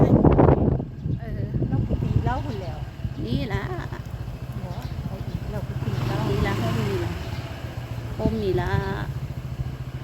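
Farm tractor engine running steadily on arrival at a temple, a continuous low chugging drone under lively talk throughout.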